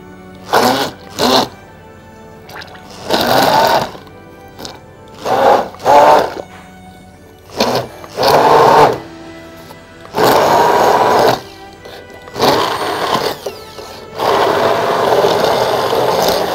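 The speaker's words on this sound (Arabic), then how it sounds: "هحط معاهم الجيلاتين وهضربهم كلهم بالهاند بلندر" A hand blender whirs through dates, milk and gelatin for a yogurt cake filling, running in repeated bursts of varying length separated by short pauses, loud and close with no talking.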